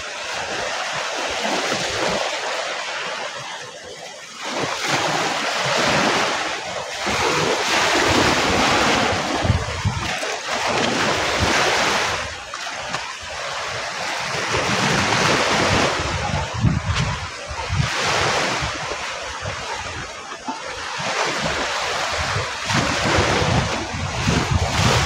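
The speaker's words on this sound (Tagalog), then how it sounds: "Yan ang dagat dito sa Balatan." Sea waves wash continuously onto the shore at Balatan, Camarines Sur, with steady surf and heavy wind buffeting the microphone. The roar swells and recedes in rhythmic surges and stays loud throughout, with no voices.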